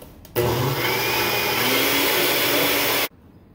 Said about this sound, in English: And we're gonna just let that blend.